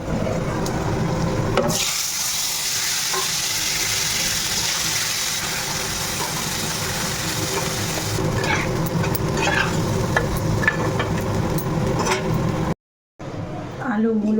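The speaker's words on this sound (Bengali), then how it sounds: "এগুলো মশলাটা একটু কষতে থাকুক সবজিগুলো মশলার সঙ্গে কষছিল" Tangra fish frying in a pan with spices, tomato, coriander and green chilli, a continuous loud sizzle with scraping stirring sounds, a brief cut near the end, and a voice talking over it.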